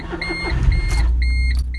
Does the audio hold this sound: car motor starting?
yes